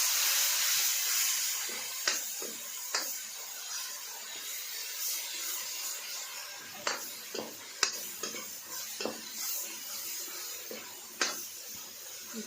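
Ground tomato and green chilli paste sizzles in a pan with softened onions, a steady close hiss of frying broken by scattered clicks and scrapes of stirring, with no voices.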